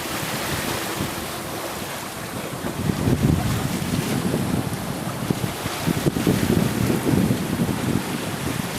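Wind rushes steadily across the microphone aboard a sailboat running with a 12-15 knot breeze behind it, with a loud, continuous roar and low gusty surges that mingle with the wash of waves against the hull.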